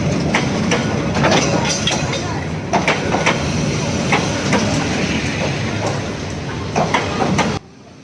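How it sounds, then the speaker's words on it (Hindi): A train rolls past close by at a tourist spot in Vietnam, a steady broadband rumble with repeated clicks and clacks of wheels over rail joints for most of the pass, then cutting off abruptly near the end. "ट्रेन हमारे सामने से ही निकली"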